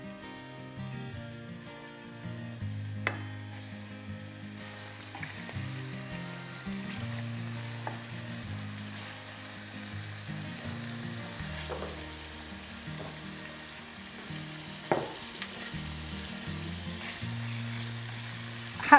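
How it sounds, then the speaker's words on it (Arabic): Shrimp fry in hot oil with a low, continuous sizzle, and occasional clicks and scrapes as they are stirred and turned in the pan. "حقلب حبات الروبيان لبضع دقائق لمجرد يتغير عندي لونها"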